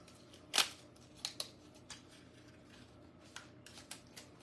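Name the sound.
tape being handled for tracing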